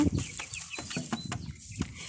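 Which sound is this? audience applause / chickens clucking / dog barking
chickens clucking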